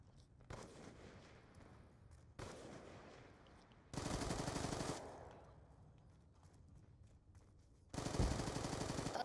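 Rapid automatic gunfire in a video game, bursts of a few seconds each, loud and close, separated by quieter stretches, with no voices.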